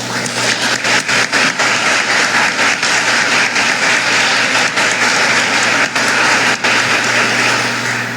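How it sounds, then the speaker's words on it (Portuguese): A church congregation claps steadily and loudly throughout, a dense continuous wash of applause with no pauses. "Uma salva de palmas para ele."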